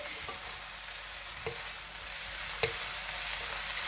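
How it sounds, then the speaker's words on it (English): Chopped egg is stirred through a pork, mushroom and cabbage stir fry, a quiet continuous sizzle with a few light clicks of a utensil against the pan. "Now just sort of chop the egg and stir everything together briefly."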